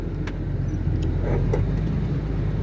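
A car cruises gently along a mountain road with no throttle applied, a steady low engine and road rumble holding throughout at an even, close level with no revving.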